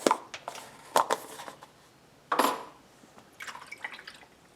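Water and soap washing red paint out of a carved Native American bust: a few scattered splashes and drips, short bursts of running water separated by quiet gaps, close and fairly soft.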